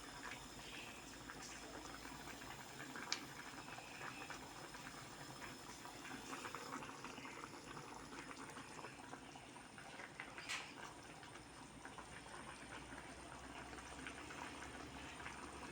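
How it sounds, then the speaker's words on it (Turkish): Rice pilaf boiling hard in an open pot over high heat, a steady close bubbling and hissing that continues without pause. "hızlı ateşte pilavımı kaynatıyorum"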